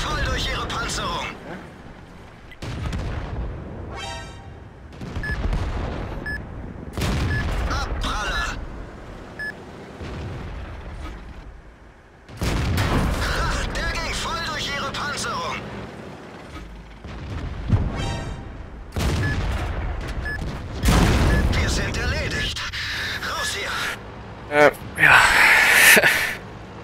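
Tank cannons firing in World of Tanks, several loud booming shots with mechanical clanks and creaks between them, heard under excited talk.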